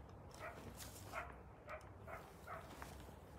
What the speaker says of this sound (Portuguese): Os cachorros começaram a latir lá